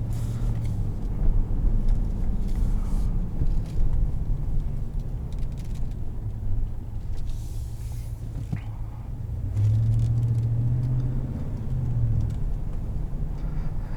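A 2020 Ram 1500 Rebel pickup truck with off-road suspension heard from inside while driving, a steady low engine and road rumble with faint interior rattles, continuous and even throughout.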